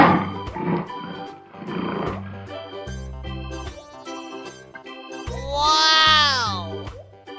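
A lion's roar swells and fades near the end, rising over bright, bouncy children's music with steady beats.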